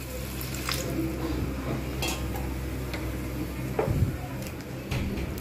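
Hot water poured into a simmering pot of taro and potato curry, a soft watery splash and sizzle mixed with clinking of a pot and spoon, while a person talks quietly in the background.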